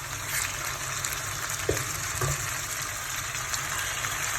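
Beef being fried Indian style in a pan with onion and spices gives a steady close sizzle, with a couple of soft clinks from stirring and no talk over it.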